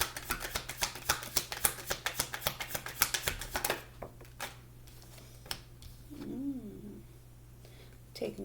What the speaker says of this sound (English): One more shuffle since they keep wanting to pop out